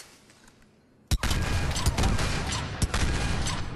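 A Saber rifle fires in the video game Mass Effect 3, a sharp loud crack that breaks a quiet lull, followed by rumbling battle noise and another distinct shot a little later.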